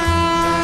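A train approaching gives a brief, steady horn-like tone with layered harmonics, moderately loud and held without a break.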